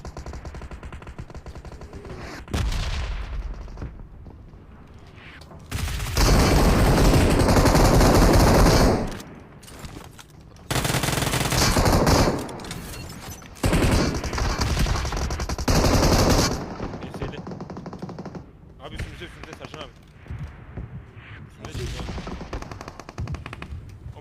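Gunfire in the mobile battle royale game PUBG Mobile, with several long, loud bursts of rapid automatic fire separated by short gaps, followed by quieter, scattered shots near the end.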